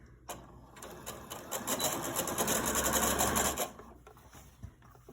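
A sewing machine runs in a quick, close burst of rapid stitching through fabric for a grocery bag holder, rising and holding steady before stopping, with a few faint clicks around it.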